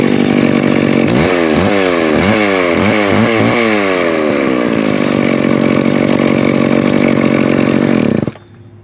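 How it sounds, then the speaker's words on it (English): A chainsaw that sat unused for a while and has somewhat low compression runs loud and close, revving in repeated surges, then holds a steady high whine before cutting off abruptly. "this one's a little harder to start than that one, but it still starts up"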